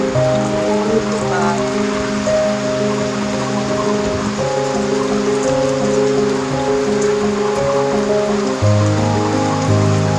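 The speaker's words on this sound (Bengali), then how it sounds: "বৃষ্টি হচ্ছে, কিছুই দেখা যাচ্ছে না চারিদিকে, শুধু বৃষ্টি আর বৃষ্টি।" Heavy rain falls steadily outdoors on a dark rainy morning, a continuous dense hiss with layered tonal music running over it throughout and no voices.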